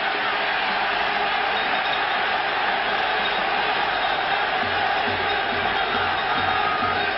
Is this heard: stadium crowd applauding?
yes